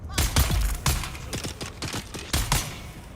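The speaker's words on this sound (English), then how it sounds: "This gun seems to be hitting harder, but it's still the same gun." Rapid gunfire in Dune Awakening, rendered as a fast run of sharp, loud, close shots with uneven spacing that continues for several seconds.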